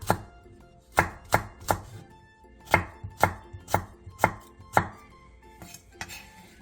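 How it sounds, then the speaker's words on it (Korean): Knife slicing green onion and red and green chili peppers diagonally on a cutting board for pork kimchi stew, about a dozen crisp, close chops in an uneven rhythm, with no talking. "대파 3분의 1개와 청양고추 1개, 홍고추 1개를 어슷썰게 해주세요."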